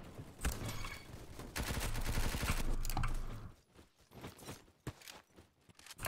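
Semi-automatic BAR gunfire in the Roblox game Bad Business: a dense run of loud shots for a few seconds, then scattered single cracks and clatter.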